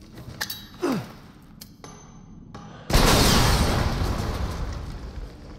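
A grenade explosion in Resident Evil 7: after scattered small clicks and sounds, a sudden loud blast hits and decays into a long, rumbling roar.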